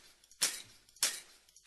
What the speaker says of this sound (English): it plays our sword sound.